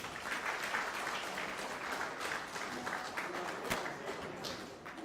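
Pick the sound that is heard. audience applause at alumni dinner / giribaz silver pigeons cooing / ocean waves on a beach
audience applause at alumni dinner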